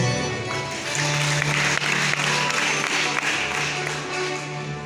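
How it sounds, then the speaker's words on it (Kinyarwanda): Steady crowd applause at a Pueri Cantores choir commitment ceremony, a dense clapping wash that holds for about five seconds with a low hum beneath it. "Ubahe amashyi."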